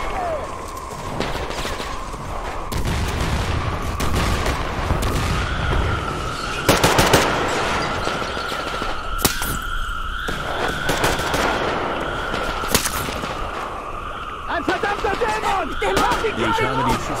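Sustained gunfire in the video game Metro Exodus, with rapid automatic bursts and sharp single shots layered over a constant droning hum, loud and close.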